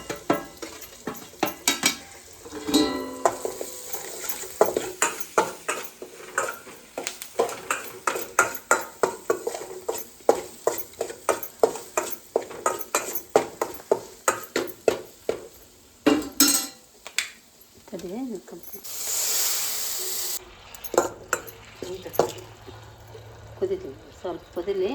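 A spoon scrapes and clinks rhythmically against a cooking pot while salt, chili powder, turmeric and masala are mixed in for Maggi noodles, a steady series of sharp metallic taps with someone talking over them.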